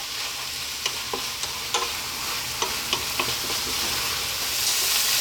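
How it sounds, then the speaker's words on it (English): Ground beef and tomato filling sizzles over medium heat in a pan with a constant hiss, and a utensil stirs it in a few sharp scraping taps. "stirring fairly often."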